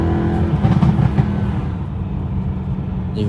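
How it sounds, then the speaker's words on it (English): Deep V8 engine roar from a BMW E92 M3 with added induction noise, loud and steady with a rising rev swell early on, then settling into a sustained rumble. "when you put the windows up, you'll hear that induction noise clearly"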